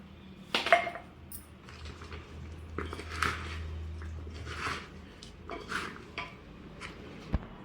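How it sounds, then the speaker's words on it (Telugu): A metal utensil clinks and scrapes against a bowl while lemon juice is mixed into chutney, a few sharp close taps and soft wet squishes spread irregularly over a quiet background. "ఈ విధంగా నిమ్మరసం అయితే వేసి కలిపేద్దాం"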